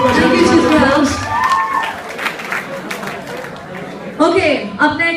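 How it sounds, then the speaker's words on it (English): A college crowd applauding and cheering in a large room at a campus contest, loud and steady at first, tapering off, then swelling again briefly near the end with some voices. "Come on, guys, give them a round of applause."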